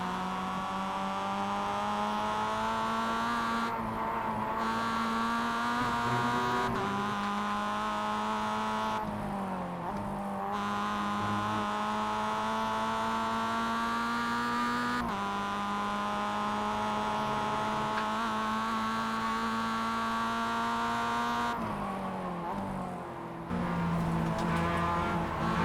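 A race car engine drives hard on track during a rookies race, close behind car 16 and chasing car 14, with a loud, steady, near engine drone that shifts pitch through the gears and dips briefly at each change.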